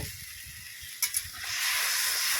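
Water poured into a hot pan of koi fish curry sets off a rising hiss of steam that swells and holds, with a couple of sharp splashes near the start of the pour.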